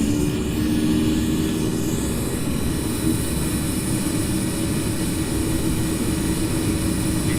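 Steady, loud roar of a Challenger 350 business jet's engines at takeoff thrust in the Infinite Flight simulator, a constant whine and rumble holding without change.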